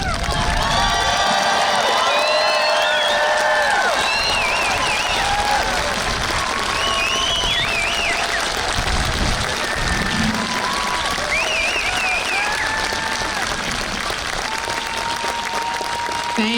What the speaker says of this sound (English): stand and applaud for your graduate